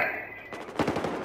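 Rapid machine gun fire crackles in a short burst of several quick shots in a video game, fairly close and sharp.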